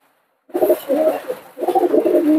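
Nepali male pigeons cooing close by in a pigeon loft, two soft throaty rolling coos after a brief silence.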